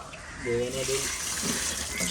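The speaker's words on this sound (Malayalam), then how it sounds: "ചെടികൾക്ക് വെള്ളം കൊടുക്കുകയാണ്." Water is poured onto plants in a yard beside a fish tank, a short splashing and gurgling stream, fairly quiet, with someone speaking briefly over it.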